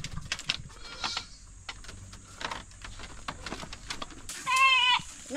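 Goat bleating outdoors at a Philippine farm near a fence, a clear wavering bleat near the end following quieter rustling and ambient noise.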